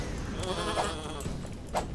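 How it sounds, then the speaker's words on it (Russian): Rams bleating in the Starbound video game, two distinct nasal bleats about a second apart over a soft game ambience, fairly quiet. "Ох уж эти бараны."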